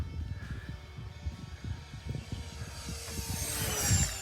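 A Flightline OV-10 Bronco twin-boom RC model airplane flies at half throttle, giving a thin, steady motor buzz that stays fairly distant and grows somewhat louder toward the end.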